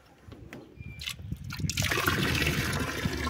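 Water is poured into a container, starting as faint trickles and splashes and building to a steady, rushing stream, with no talk over it.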